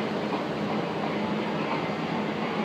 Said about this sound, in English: The tram is now departing.